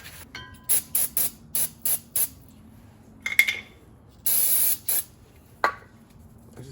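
Aerosol WD-40 sprayed onto brake parts during a brake job on a 2013 Ford F-150, heard as a run of short hissing bursts followed by two longer sprays and a last brief puff, close and clear with no talking.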